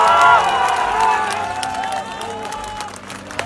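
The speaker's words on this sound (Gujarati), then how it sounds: "જોરદાર તાળીઓના ગડગડાટથી વધાવ્યો છે શ્રી બાબાભાઈ ભરવાડ" A crowd applauds and cheers loudly at a community land-blessing ceremony in Gujarat, honouring donor Bababhai Bharwad for his 1 crore rupee gift. Steady clapping is mixed with tonal sounds and fades slightly toward the end.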